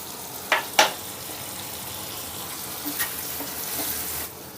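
A soft steady sizzle of tempering for lemon rice in a pan with a little water added, broken by a few sharp crackling pops near the start and again midway.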